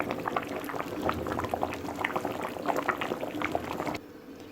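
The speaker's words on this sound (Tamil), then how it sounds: "பாருங்கள், நல்லா வந்து கொதிக்குது." Sardine fish curry bubbles in a pot, a dense run of small popping and gurgling bubbles at moderate level close by, continuing steadily for about four seconds before dropping away.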